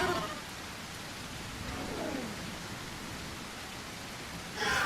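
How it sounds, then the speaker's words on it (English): Steady rain falls in the survival video game The Isle, a broad, even hiss that fills the whole stretch and swells slightly louder at the very end, with no other clear sounds on top. "The rain is covering most things at the moment"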